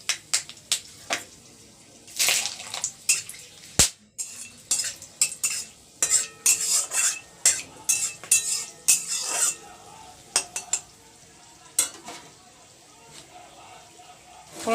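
Bay leaf and whole garam masala fry in hot oil with a faint sizzle, while a metal spoon repeatedly scrapes and clinks against the pan in irregular bursts, under someone talking.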